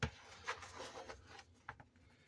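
A spatula scraping the sides of a bowl of buttermilk biscuit dough, giving several short, close rasping strokes in a quiet kitchen.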